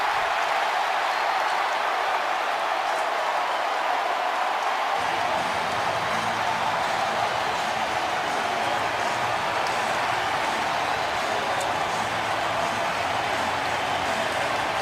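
Stadium crowd at an NFL game in Chicago cheering after an 89-yard touchdown kick return, a broad steady roar that swells and holds throughout, with no talk over it.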